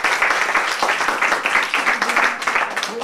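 Dense, continuous applause from a crowd, many hands clapping steadily at an even level for a few seconds.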